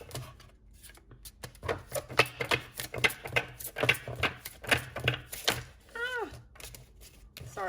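Tarot cards being shuffled by hand in short riffling bursts, close and crisp, with a cat's meow cutting in near the end.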